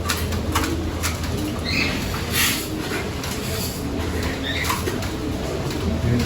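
Pigeons in an aviary cage with young birds make steady low cooing, and wings flap in short bursts now and then over a constant background rumble.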